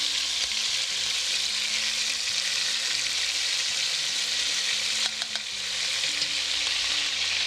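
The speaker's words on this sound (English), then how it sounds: "Sofreír is when we allow those initial spices to heat up and start stir frying in our pots." Spices and sofrito sizzle and crackle steadily in a pot as Puerto Rican pink beans are started, a dense, close frying hiss with faint stirring clinks running throughout and no voices.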